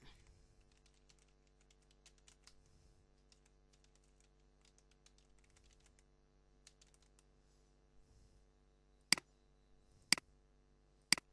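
Light, scattered keystrokes tap on a computer keyboard, soft and close. Near the end, three sharp, much louder clicks stand out.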